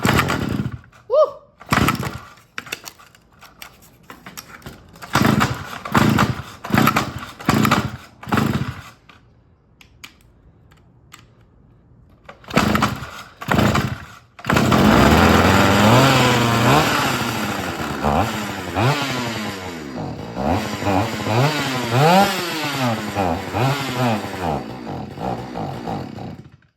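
A restored old Stihl 042AV two-stroke chainsaw pulls over in a string of short sputtering bursts, then fires and runs loudly with revving, rising and falling engine pitch, close up.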